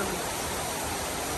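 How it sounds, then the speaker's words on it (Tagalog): Dense, unbroken roar of heavy rainfall, close and even throughout the brief moment, like water pouring hard over everything. "Malakas ng ulan ngayon."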